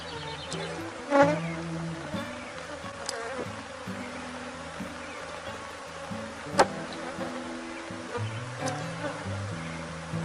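Honeybees buzzing around an opened hive box during a beekeeper's frame check, a steady close drone with a few sharper flybys passing near, with no voices.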